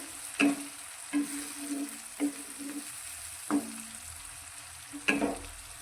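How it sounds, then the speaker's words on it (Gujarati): Intermittent sizzling and scraping of tomatoes being stirred in a hot pan until soft, with several sharp stirring strokes over a steady low fry. "આ ટામેટાને એકદમ સરસ રીતે સોફ્ટ થાય ત્યાં સુધી સાતરીશું"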